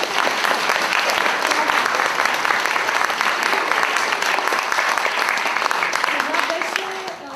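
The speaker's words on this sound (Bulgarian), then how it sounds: "ви благодаря за аплодисментите" An audience at a Christmas choir concert gives a dense, sustained round of applause, loud and even throughout, fading slightly at the very end, with speech partly heard beneath it.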